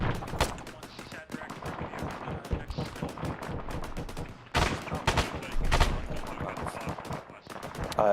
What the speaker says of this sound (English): The one where the bullets are coming from, northwest.